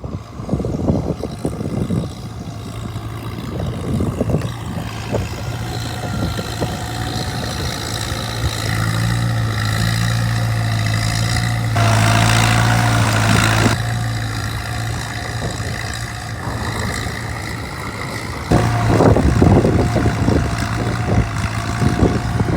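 An Oliver Super 66 tractor runs steadily while discing a field, its engine a constant low drone with a few louder swells and rattles throughout, heard alone without any talk.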